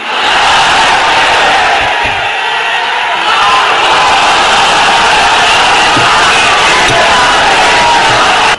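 A large crowd at a religious gathering chanting the takbir slogan in unison, a loud, dense roar of many voices that holds almost without a break, slightly dipping for a moment before surging again.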